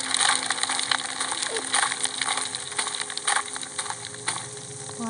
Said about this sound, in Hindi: हैंडपंप से पानी हमने निकाल लिया।